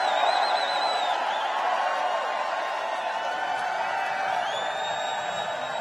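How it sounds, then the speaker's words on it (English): A large rally crowd in Montoursville, Pennsylvania roars and cheers continuously, a dense, steady wash of voices with occasional whoops rising above it, heard from a distance without a break. "you could tell by they can actually tell by the cheering"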